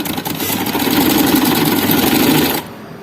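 A sewing machine stitches a frock in one continuous whirring run of about two and a half seconds, close and loud, then stops abruptly into quiet.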